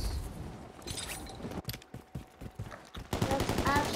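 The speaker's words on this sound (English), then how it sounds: "Look at the amount of shots it takes. It takes 1, 2, 3, 4, 5, 6." Rapid gunfire from a weapon in Call of Duty, a loud burst of closely spaced shots with a choppy pause midway, then another dense burst.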